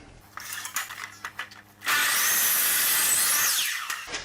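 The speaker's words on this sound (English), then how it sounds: "I now need to miter this back from this point at a 45-degree angle" A power saw makes a single miter cut through a wooden moulding at 45 degrees. A few light handling taps come first, then a loud, steady cutting whine lasts about two seconds before it stops.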